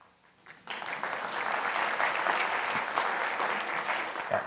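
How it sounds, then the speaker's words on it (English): An audience at a book talk on African Americans in World War II bursts into steady, full applause that holds evenly for several seconds after a brief quiet start. "Minnesota definitely deserves some applause there."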